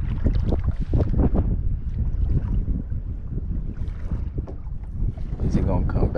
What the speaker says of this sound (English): This crazy wind.